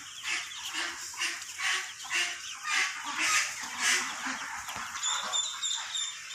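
Day-old female laying ducklings in a farm pen, a crowd of rapid high peeping calls rising and falling in steady pulses, close and continuous.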